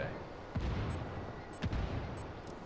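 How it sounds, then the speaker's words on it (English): Gunshots ring out from down below in a town in the Ghost Recon Wildlands video game, a few separate distant cracks spaced about a second apart over steady background rumble. "I have gunfire down below in the town."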